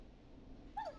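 A neighbor's dog whimpers in the video game Killer Frequency, a single short whine rising near the end over a low background hum, faint and somewhat distant.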